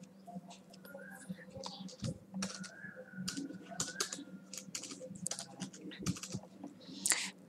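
Keys tapped on a computer keyboard while entering a full name during Microsoft Outlook 2010 email setup, a steady run of light clicks with some irregular pauses, close and fairly quiet.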